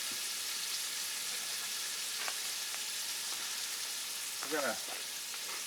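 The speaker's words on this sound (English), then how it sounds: "fry these up for a few moments" Seasoned chicken pieces frying in a Dutch oven give a steady, fairly faint sizzle, with a brief spoken phrase near the start and a few scraping stirs.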